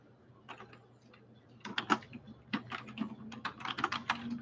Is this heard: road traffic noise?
no